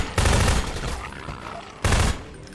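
Two loud, booming sniper shots from Half-Life 2: Episode One ring out about a second and a half apart, each with a sharp crack and a fading rumble.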